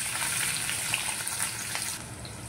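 Long-sliced onion frying in oil in a kadai, giving a continuous bright hiss of sizzling that runs steadily throughout, close and fairly even, easing slightly near the end.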